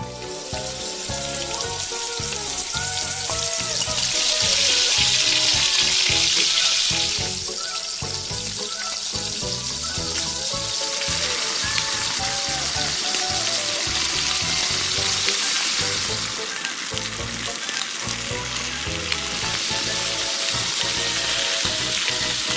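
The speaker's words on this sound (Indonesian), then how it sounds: "Goreng bumbu." Spice paste fries in a pan with a loud, continuous sizzle and bubbling crackle that swells and eases a little over time, heard close with no talking.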